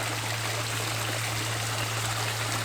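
Water pouring steadily while watering in a newly planted ginger plant outdoors, a continuous close splashing trickle over a low hum, with no talking.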